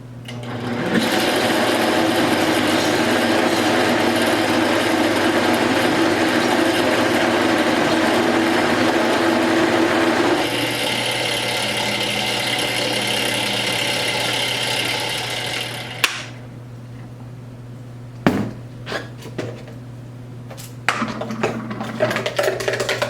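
A blender whirs through a thick pumpkin mixture, a loud steady high-pitched motor whine that shifts pitch partway as the blend loosens, then cuts out, leaving brief knocks and clatter.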